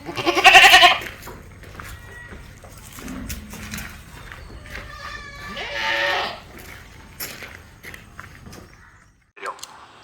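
A sharp Malabari cross meat goat bleat rings out near the start, followed by a fainter bleat midway, with shuffling hooves and farmyard noise around.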